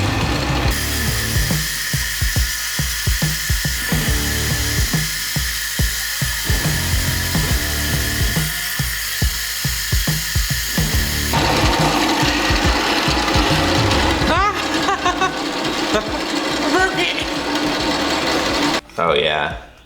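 A bandsaw cuts a Damascus steel billet in half with a loud, continuous mechanical whine and rapid chattering, shifting in tone partway through and ending with a brief louder burst.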